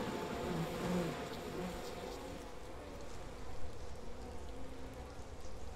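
Bees swarm indoors in We Happy Few, giving off a continuous, even buzzing hum of moderate loudness that carries on throughout, with faint background sounds underneath.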